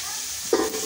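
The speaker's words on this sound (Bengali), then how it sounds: "পেঁয়াজটা একটু ভাজা ভাজা হয়ে এলে" Onions frying in a pan for chicken curry give a soft, steady sizzle, with one brief stirring scrape near the middle; short, close and without talk.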